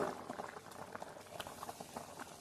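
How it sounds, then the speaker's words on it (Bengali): Potato curry simmering and reducing in a pot, a soft, quiet bubbling with small irregular pops running steadily throughout. "আমাদের আলু ঝোলটা শুকিয়ে আসছে, হয়ে আসছে।"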